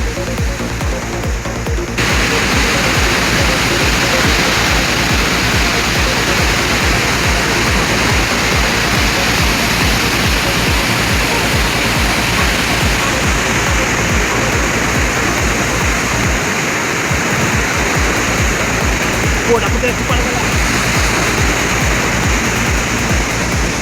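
Roaring torrent of water released through the Rengali Dam, a loud, steady broadband rush that continues unbroken and close throughout with no voices.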